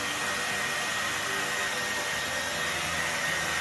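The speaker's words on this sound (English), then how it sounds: "you can use any blow dryer, but I'm just gonna go in with the Dyson" A hair dryer blows steadily and loudly throughout, a constant broadband whoosh with a high whine and no talking.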